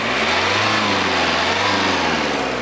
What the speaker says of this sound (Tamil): அது ஒரு ராவான டீசலோட சவுண்ட்.